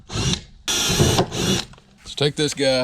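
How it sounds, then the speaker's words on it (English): A handheld power drill bores holes in a Bonafide SS127 kayak for a swing blade rudder install, two loud sustained bursts followed by a short speech phrase and a few quick triggered whirs. "Let me drill those holes real quick."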